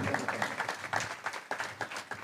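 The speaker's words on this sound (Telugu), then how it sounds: "చప్పట్లు కొట్టి దేవుని మహిమ పరుద్దాం" A church congregation claps in an uneven, rhythmic patter of many hands, moderately distant and fairly quiet, with pulses of clapping rising and falling.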